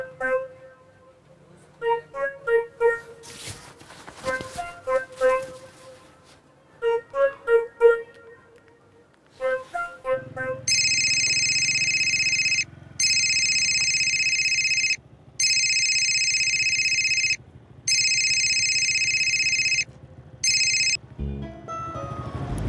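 A mobile phone ringtone for an incoming call repeats in steady bursts with short gaps for about ten seconds, loud and near, after a stretch of speech.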